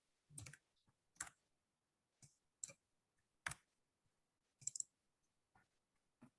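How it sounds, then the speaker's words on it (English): Sparse keyboard typing during an Arabic lesson: faint, quiet clicks in short uneven bursts separated by silent pauses. "That's why I'm typing it now."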